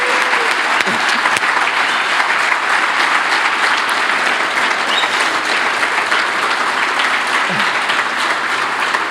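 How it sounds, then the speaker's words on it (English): Sustained applause from a gala awards audience fills the room, dense and loud clapping that holds evenly throughout without any speech on top. "Give her another round of applause, please."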